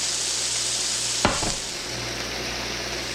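Seasoned vegetable chow mein noodles with tofu, dressed with soy sauce, chili garlic and chili sauce, are gently tossed in a hot pan, giving a steady close sizzle with one brief scrape of stirring partway through.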